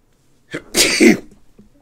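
One loud, close human sneeze bursts out with a sharp intake and an explosive release, preceded and followed by quiet.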